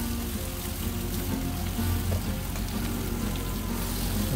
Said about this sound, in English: let those sizzle away